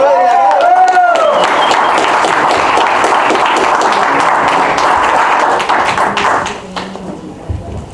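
A church congregation claps for returning members, dense lively applause mixed with murmuring voices and a few whoops early on, loud and sustained before tapering off over the last seconds.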